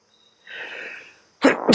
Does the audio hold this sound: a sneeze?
yes